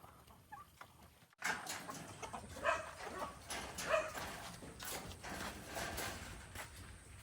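Chickens on a farm, including a Texas hen, clucking in short bursts close by after a quiet start, with a dog-like bark or two and outdoor background noise.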